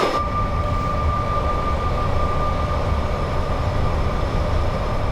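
A Class 87 electric locomotive hauling a loaded steel train rolls past, a loud sustained rumble of wagons and wheels with a steady high electric whine throughout.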